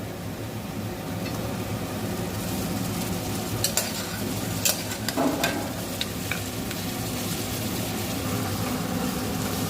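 Boiled mutton with ginger paste and turmeric being stirred in a pan for mutton gravy curry, a steady close sizzle broken by scattered scrapes and clinks of a spoon against the metal.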